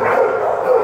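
Dogs bark at an animal shelter in a dense, continuous wash of overlapping barks and yips that fills the short moment at a steady loud level with no pause.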